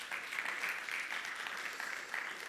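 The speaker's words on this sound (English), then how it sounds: "Clap for Bassem Youssef." Audience applause at a film festival session in Dubai, a steady mid-level wash of clapping that holds evenly throughout without any voices.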